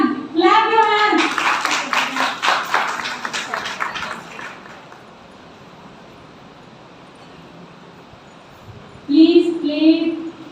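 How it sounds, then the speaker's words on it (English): Audience hand clapping at a gathering, dense and loud for several seconds after a voice calls out, then fading into room quiet before talking resumes. "Everyone, clap your hands."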